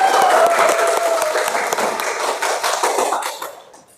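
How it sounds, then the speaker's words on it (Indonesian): A classroom group claps for a presenting student group, a dense burst of many hands close by that stays full, then thins and fades out toward the end. "kita beri aplaus untuk kelompok 2"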